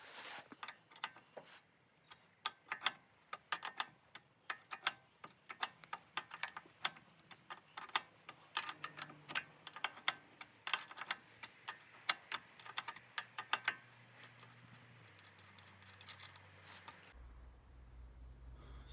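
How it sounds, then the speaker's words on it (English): Ratchet turning the bolt on a Volvo V70/S60 P2 lower arm ball joint makes rapid, quiet clicks in a steady run that slows and stops near the end. "I can do this with a open-ended spanner and the ratchet"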